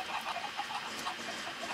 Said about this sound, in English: I made a chicken farm in Minecraft.